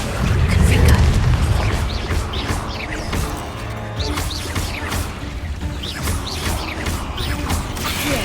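In the Hogwarts Legacy video game, a cast Confringo spell sets off a heavy explosive boom, followed by crashing debris, clattering mechanical rattles and creaks that continue at a loud, busy level.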